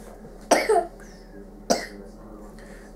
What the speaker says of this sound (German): Der junge Herr, der hier hustet, ist der junge Herr, der hustet.